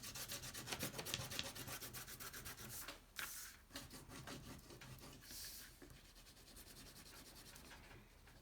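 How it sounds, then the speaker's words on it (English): A crayon is rubbed lightly on paper to color a sky. It makes continuous close, soft scratchy strokes in a quick back-and-forth rhythm, pausing briefly a couple of times. "It's supposed to be light, so I don't need to dig the crayon in."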